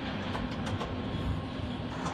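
A metro train runs through an underground tunnel in Marseille, filling the clip with a loud, continuous rumbling roar and faint rhythmic clatter from the rails.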